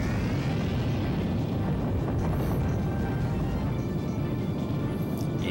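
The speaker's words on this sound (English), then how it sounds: "Explode." A fiery Explode spell blast in the Suikoden role-playing game: a sustained, roaring burst of explosive rumble that holds steady for several seconds, with bright magical shimmering sweeps overhead.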